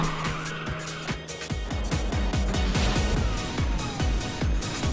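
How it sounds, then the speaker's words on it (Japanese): Racing car in Ridge Racers 2 drifting through a corner, tires squealing continuously over a loud, steady engine roar with rhythmic gear-driven pulses, close and unbroken throughout. "ループ主、綺麗にドリフトを決めているな。"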